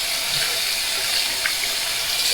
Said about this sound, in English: We'll rinse it off with some nice Lake Michigan water.